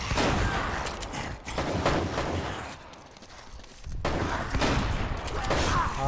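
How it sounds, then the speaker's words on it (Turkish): Dense bursts of gunfire in Uncharted: Drake's Fortune, loud and sustained with rapid overlapping shots and a brief lull midway before the volley resumes. "arkadan vuruyor"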